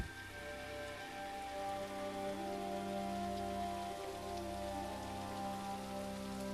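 Rain falls in a video game, a steady dense patter of drops on surfaces that continues evenly throughout, moderately loud with no voices.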